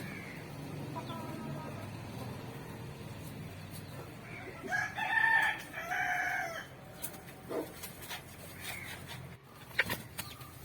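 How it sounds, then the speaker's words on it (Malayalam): Native country chickens cluck softly nearby inside a net enclosure, then a rooster crows loudly in the middle, followed by scattered clucks and squawks over a quiet background. "ഇവരൊക്കെയാണ് നമ്മുടെ നാടൻ കോഴികൾ."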